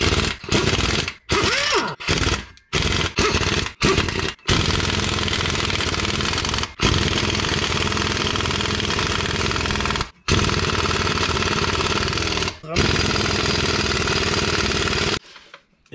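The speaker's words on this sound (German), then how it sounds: "Schlagschrauber auf Mini-Stufe." Impact wrench on its lowest setting working on a VW Golf 2 gearbox, heard as several short rattling bursts followed by long sustained hammering runs broken by brief pauses, loud and close.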